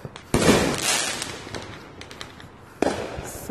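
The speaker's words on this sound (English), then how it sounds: "watching the neighborhood fireworks" Neighborhood Fourth of July fireworks burst outdoors in loud booming cracks, a big blast early, lingering crackle and rumble, then another sharp report near the end, with no talking.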